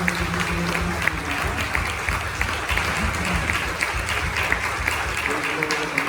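A church congregation at a Christmas Sunday service applauds a birthday, with dense, steady clapping throughout at moderate volume and a faint voice underneath.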